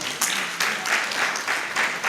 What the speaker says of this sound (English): Ladies and gentlemen, with a round of applause, let's welcome our Dr. Ahmed Mustafa Badawi.